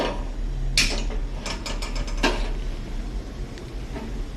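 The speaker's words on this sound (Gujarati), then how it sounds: "હવે રવાને ઘીમાં શેકી લેશું. ગેસ ચાલુ કરીશું." A gas stove knob is turned on in a home kitchen before roasting semolina in ghee, giving a close, loud cluster of sharp ratcheting clicks from the igniter, followed by fainter clicks over a steady low hum.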